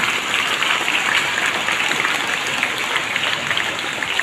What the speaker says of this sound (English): Let's give them a big applause and congratulate them.